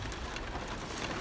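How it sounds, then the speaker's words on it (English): Heavy rain falls as a dense, steady wash of noise, continuous and even, with no voices over it. "it is raining a lot heavier"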